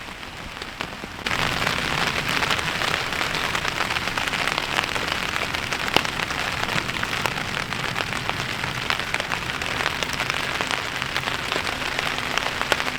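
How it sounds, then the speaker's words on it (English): Heavy rain pours steadily onto a tarp shelter, a dense, continuous hiss that stays loud and even throughout with no voices. "show you how hard it's raining right now"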